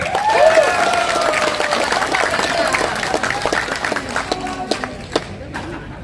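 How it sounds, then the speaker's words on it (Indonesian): A crowd breaks into lively applause with cheering and voices mixed in, loud at first and then tapering into scattered claps as it dies down. "Tepuk tangan untuk mereka bertiga."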